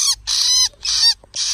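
A small bird that has been caught screams loudly, three harsh, shrill shrieks in quick succession, close up, with short silent gaps between them.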